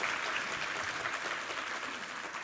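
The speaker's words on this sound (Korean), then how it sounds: "우리 하나님께 감사와 영광의 박수 올려드리겠습니다." Church congregation at a Sunday worship service applauding, a steady wash of many hands clapping together, sustained and even for a couple of seconds, somewhat distant and soft.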